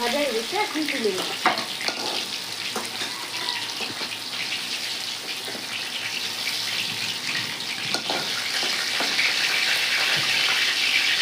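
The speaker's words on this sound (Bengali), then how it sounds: "খুব ভালোভাবে কষা দিচ্ছি" Spice masala sautéing in a pan for a Bengali elephant foot yam and fish curry, a continuous loud sizzle and hiss with occasional scraping and stirring knocks.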